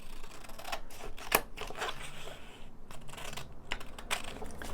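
Scissors snip through a double-sided paper poster in quick, irregular cuts, some sharp and crisp, with no talking.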